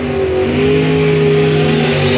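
A Camaro launches at a drag race at Music City Raceway, its engine droning loudly and steadily with a strong, even revving tone, close and alone with no talk.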